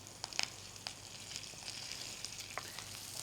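Indian pennywort (vallarai) leaves frying over a mild flame in a pan, a soft steady sizzle with a few sharper crackles and pops early on, quiet and close with no talking.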